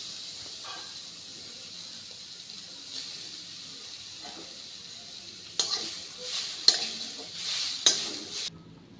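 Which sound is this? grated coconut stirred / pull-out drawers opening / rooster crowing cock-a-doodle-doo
grated coconut stirred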